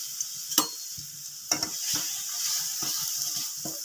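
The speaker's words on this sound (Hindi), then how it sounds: "और फिर हम ये अपने जो हमारा ये गुड़ था उसको डाल देंगे" Jaggery being stirred in a pan while making laddus, with scraping stir strokes at intervals over a faint steady sizzle, no talking.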